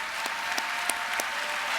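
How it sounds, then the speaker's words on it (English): A convention audience at the 2018 Ohio FFA Convention gives a steady wash of applause, with a few sharper individual claps standing out, filling the whole moment without speech. "Let's give one more round of applause for Mr."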